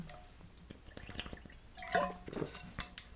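A person drinking water from a cup or bottle: soft, close gulps and sloshing liquid sounds, with a brief swallow in the middle and a faint clink near the end.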